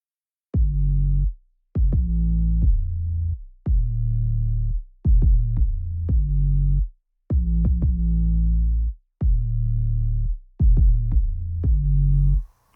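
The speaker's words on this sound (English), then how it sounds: "I'm doing a little bit of stereo wobbling on the default setting" Deep, distorted 808 bass notes hit in a repeating pattern, each sustained tone wobbling with a gritty, saturated edge, separated by short silences.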